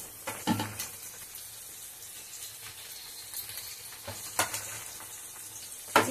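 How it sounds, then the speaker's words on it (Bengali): Spice paste with turmeric and chili powder sizzles steadily in a pan, with occasional scraping stirs and spatula knocks, close and alone without talk. "এবার মশলাটা খুব করে কষাতে হবে, অনেকক্ষণ ধরে। আচ্ছা, হলুদ আর লঙ্কার গুঁড়োটাও দিয়ে দিচ্ছি।"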